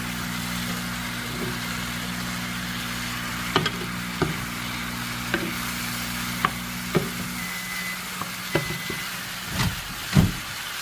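Okra stew is stirred in a pot, a spoon giving scattered knocks and scrapes against the side over a steady low hum and faint sizzle, close and moderately quiet.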